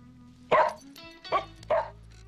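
A dog gives three short, sharp barks close by, spaced about a second apart, over a quiet background hum.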